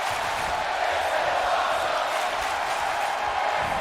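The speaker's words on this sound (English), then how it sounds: "The crowd of "This is awesome" chant." A wrestling arena crowd at an XFW Danger Zone event roars steadily and loudly as a dense, continuous wash of cheering and chanting, with no clear break over several seconds.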